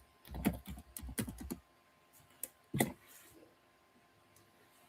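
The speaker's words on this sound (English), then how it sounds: "I type failure in the chat box" Someone types on a computer keyboard into a chat box. Short clusters of soft, quick key clicks come in separate bursts with pauses between them, fairly quiet and with no talk.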